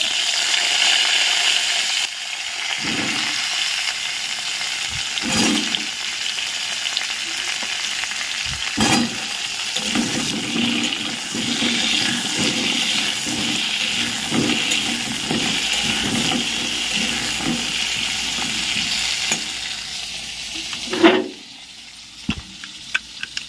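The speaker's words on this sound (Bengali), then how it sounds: "এবার চলো ওই তেলটার মধ্যে পটল কটা ভেজে নিই।" Pieces of pointed gourd (potol) frying in hot oil in a home kitchen, a steady close sizzle with occasional stirring scrapes and clinks, easing off near the end.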